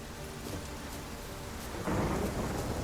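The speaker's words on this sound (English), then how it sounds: "The storm, damn it." A thunderstorm in The Witcher 3 video game, with steady rain hissing throughout and a rolling thunder rumble swelling near the end, heard alone without voices.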